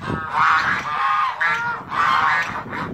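Several guinea geese honk in loud, repeated bursts close by, calls overlapping in uneven bouts with brief pauses between them on a farm with goslings around.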